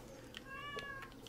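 A cat meows twice in Stardew Valley, short clear mews over a quiet game background.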